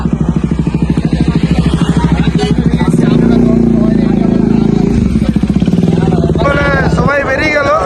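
Motorcycles lined up for a night photo shoot at a dam, engines idling loudly and chugging nearby, with people talking and calling out over the revving.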